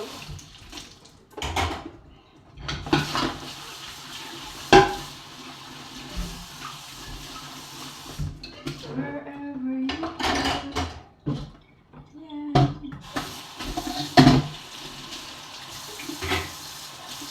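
Dishes are washed by hand at a sink, with running tap water, splashes and intermittent clinks of plates knocking together, close and moderately loud.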